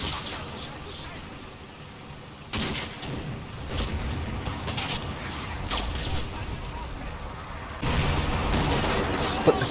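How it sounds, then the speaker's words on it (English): Heavy gunfire and distant explosions pour onto a pinned infantry platoon in a World War II battle for Stoumont, with steady crackling volleys broken by louder bursts partway through, mixed under talk. "The pinned platoon is taking heavy fire."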